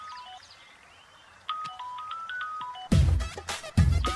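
A phone rings with an incoming call in a dubbed South Indian romantic film scene: a melodic chime of repeating tones, then louder music-like bursts near the end, with no talking.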